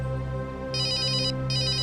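An incoming call makes a phone ring in two short bursts of bright electronic trilling, close and clear over a steady low room hum, with no talking.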